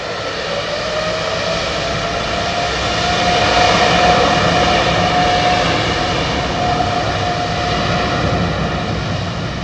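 A Turkish Airlines Boeing 777-300 jet at London Heathrow Airport gives a sustained, rumbling engine roar with a thin whining tone. It swells to a peak midway as it passes, then eases off slightly, with no voices over it.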